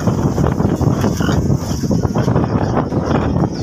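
Strong wind buffets the microphone at a farm pen where a sow nurses newborn crossbred wild-boar piglets, a loud continuous rumbling roar with no gaps.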